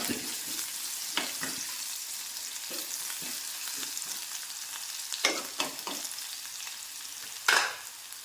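Sliced ginger and small onions fry in coconut oil with a quiet, continuous sizzle, punctuated by several sharp scraping strokes of a spoon stirring the pan. No one speaks.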